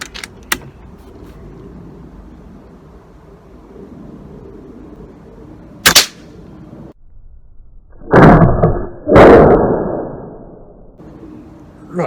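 A rifle is fired at special matches set up as targets: one sharp, short bang stands out, followed a couple of seconds later by two louder, longer bursts of noise over a steady background hum, with no talking.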